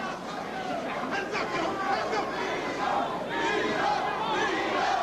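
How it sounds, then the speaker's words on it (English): Boxing arena crowd at a Marvin Hagler vs Vito Antuofermo fight chanting Vito's name, a rhythmic roar of many voices rising and falling through a busy hubbub. "Crowd in the background now chanting Vito, Vito"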